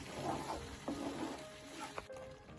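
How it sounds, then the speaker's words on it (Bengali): Milk reducing into khoya kheer in a pan, stirred with a spoon over a soft sizzle, with a few scrapes and clinks close by. "তো এটাকে ভালো করে আবারও নাড়িয়ে নিতে হবে"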